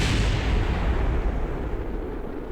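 A spacecraft explodes in Kerbal Space Program, a loud, continuous low rumbling blast that fills the whole moment and slowly fades as it rolls on, with no voices over it.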